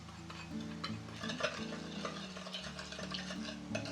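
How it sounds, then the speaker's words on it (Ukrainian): Vitamin salad with salt and vinegar is stirred, giving a close, continuous scraping and swishing with faint clinks, without any talk. "Перемішуємо."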